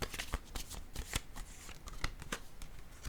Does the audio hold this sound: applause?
no